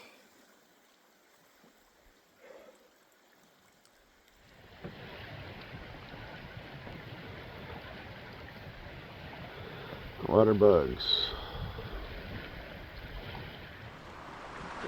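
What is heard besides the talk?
strong wind and waves on a lake during a canoe trip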